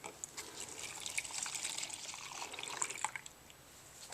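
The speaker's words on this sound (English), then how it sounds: "I'm going to pour it into the pumpkin." Foamy soap mixture poured into a pumpkin, a quiet continuous liquid trickle with soft splashy drips, faint and close, no talking.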